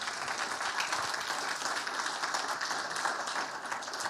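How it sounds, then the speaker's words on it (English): Banquet audience applauding steadily throughout, a dense, even wash of many hands clapping heard from within the room, with no voices over it. "let's give them all another round of applause before we go,"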